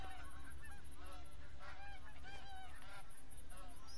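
A flock of geese in a hunting video game honks repeatedly with overlapping calls, steady and moderately distant, over a constant noisy background of wind or water.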